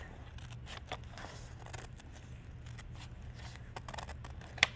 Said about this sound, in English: And I'm just going to cut out this shape